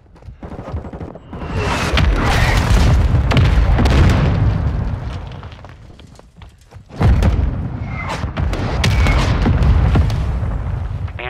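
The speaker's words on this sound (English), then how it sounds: "Mortar strike inbound." Mortar strike explosions in Call of Duty Modern Warfare 2 multiplayer, with a series of loud, close booming blasts and heavy thuds layered over gunfire, in two long rolling waves separated by a brief lull.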